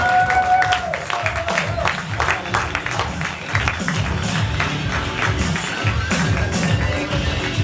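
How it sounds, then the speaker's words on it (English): A live audience breaks into loud, rowdy applause during a comedy game show, with steady clapping, whoops and mixed voices shouting together throughout. "explode into uproarious applause"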